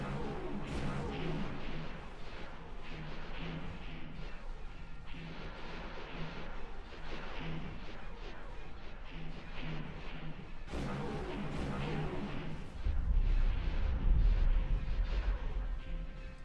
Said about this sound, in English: Oh, they're shooting at the dock.